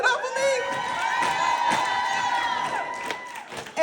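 Audience at a ladies' night pajama jam discussion panel cheering, with loud whoops, shouts and high-pitched yells over some clapping, sustained for a few seconds close by.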